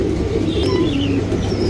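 Meter Gauge Tirawal pigeons give a low, steady murmuring coo that runs the whole time, with faint higher chirps on top and no one talking.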